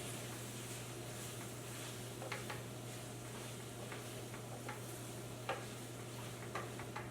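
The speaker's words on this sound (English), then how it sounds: "And now, time to add in our fried eggplant. Put all of that in. Give this a nice toss." Fried eggplant tossed in a hot pan for Sicilian caponata, giving a steady close sizzle under a low hum, broken by a few sharp clinks and scrapes of the pan and utensil.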